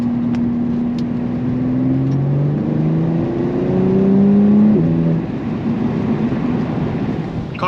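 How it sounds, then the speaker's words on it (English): A 2024 BMW M2's engine revs loudly and close up while driving on a rainy road, the pitch climbing and shifting through gears under steady road and tire roar, with no talking. "Car sounds great though."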